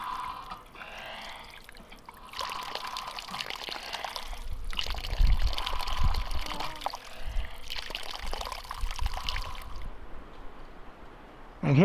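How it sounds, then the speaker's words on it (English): A small trickle of water drawn up by a windmill pump at an old homestead site in Big Bend National Park, running as a steady thin stream near the listener, with wind noise underneath and a voice talking over parts of it. "This is a little bit of water that that windmill is bringing out."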